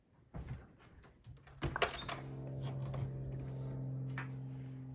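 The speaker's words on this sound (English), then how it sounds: "why are you knocking on the door?" Several sharp knocks land on a door in an irregular cluster, followed by a steady mechanical hum that lingers quietly to the end.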